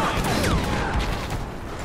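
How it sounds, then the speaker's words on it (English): Long range gun firing in the Star Wars Battlefront video game, dense overlapping shots and crashes from a loud, busy battle, with no clear single report standing out. "this is a long range gun"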